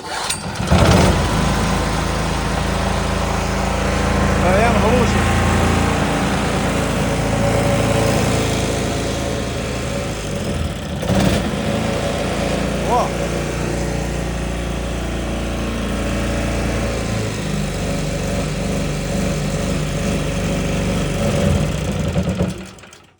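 A petrol generator fitted with a Gaspower KMS-3 gas carburetor module runs on gas with a steady, loud, buzzing drone, close by and continuous, with brief rattles partway through.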